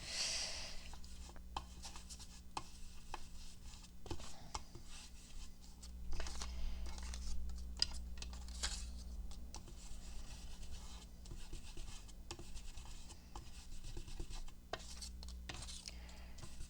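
Ink being rubbed along the white paper edges of craft cut-outs, quiet repeated soft rubbing and brushing strokes with light taps and pauses, close and faint.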